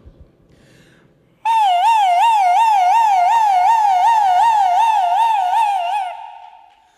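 A voice imitates an ambulance siren during a comedy skit, a rapid, steady warbling wail held loud and close for about four and a half seconds before fading.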